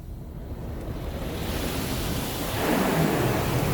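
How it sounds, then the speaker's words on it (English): High-pressure rinse water sprays across a car inside an Esso automatic car wash, a loud, dense, continuous roar that builds slightly as the jets move closer. "I think that was supposed to be the high pressure rinse"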